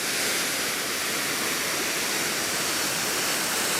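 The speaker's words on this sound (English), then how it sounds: "There's falls here." Steady, dense roar of a waterfall on Hidden Creek near Anyox, British Columbia, loud and continuous with no breaks, close by.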